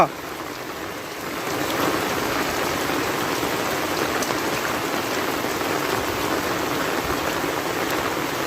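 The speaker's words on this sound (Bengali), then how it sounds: "প্রচুর ঝড় বৃষ্টি প্রচুর" Downpour from a rainstorm over a village in Mymensingh, Bangladesh, hissing steadily, growing louder after the first moment and then holding as a dense, unbroken wash of rain.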